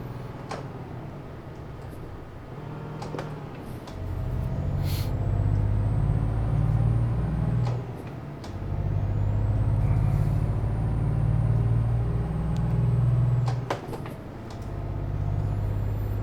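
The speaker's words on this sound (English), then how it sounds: "Why would you put your brakes on in front of a big truck in a tunnel when there's nothing ahead of you?" A big truck brakes in a road tunnel, its loud engine drone swelling and dipping in long waves, with sharp air-brake hisses and squeals cutting through close by.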